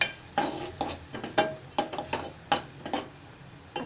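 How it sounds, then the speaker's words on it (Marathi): Spiced Malvani pea samosa filling stirred in a pan, with a string of short scraping and clinking strokes of a spoon against metal at an uneven rhythm, close and moderately loud, with no talking. "मी अर्धा चमचा मालवणी मसाला एक्स्ट्रा घालत आहे आणि मिश्रण एकजू करून घेत आहे"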